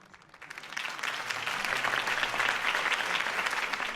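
Loud, sustained applause from a large crowd, a dense clatter of clapping that swells quickly and holds steady without any voices.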